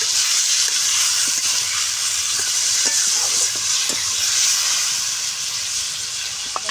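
Spice paste for a fish curry fries loudly in a pan with a dense, continuous hiss and sizzle, and a few faint stirring taps sound beneath it.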